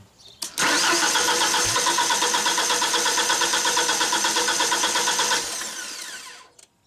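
A Genie lift engine cranks and catches from the platform controls, running in a steady rapid rhythmic churn for several seconds before winding down, loud and close, with no talking.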